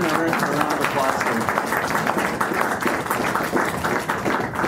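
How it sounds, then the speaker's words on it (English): Audience applause at a recovery meeting, a dense, steady wash of clapping from a crowd lasting throughout without a break. "let's give them a round of applause."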